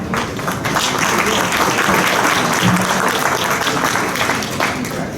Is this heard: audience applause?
yes